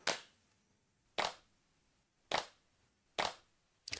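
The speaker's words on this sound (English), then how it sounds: "Is that enough claps?" Five sharp, dry hand-clap samples playing back in a music production session, evenly spaced about a second apart, each a crisp isolated snap with a short decay and silence between.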